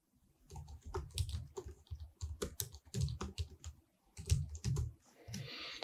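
Quiet, close keystrokes on a computer keyboard as an email address is typed, forming irregular clusters of soft clicks with brief pauses between them.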